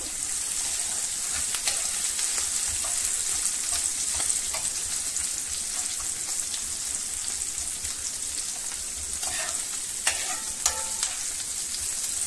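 Vegetables stir-fry with a pinch of turmeric in a pan, giving a steady close hiss and crackle with faint scattered clinks and scrapes of a spatula, no talking.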